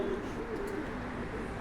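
Pigeons cooing close by in a low, rolling murmur, a short run of soft throaty calls over faint background noise.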